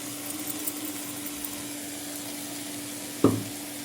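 Soaked chickpeas sautéed with ground paste in a pan make a faint, even sizzle over a low steady hum, with one sharp utensil knock near the end.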